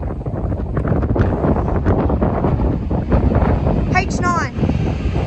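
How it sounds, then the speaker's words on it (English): Steady, loud wind buffets the microphone at a train station, a constant broadband roar for the whole stretch, with a brief high whine rising near the end. "It's just getting windy."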